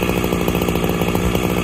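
Husqvarna 365SP chainsaw running in dry oak, a loud, steady, buzzing engine roar that holds throughout with no pauses and no voices.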